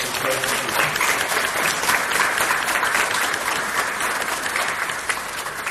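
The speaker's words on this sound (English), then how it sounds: "Can we get a big round of applause for the work for Shirley?" Audience applause at a community forum in Stony Plain, a steady dense wash of clapping from many hands filling the room at close range for several seconds, with no break.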